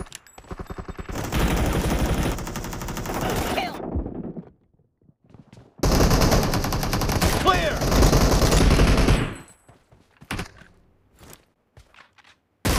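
Sniper fire from an M24 rifle in PUBG Mobile, two long loud stretches of rapid shooting and battle noise separated by a quiet gap, followed by a few sharp isolated cracks.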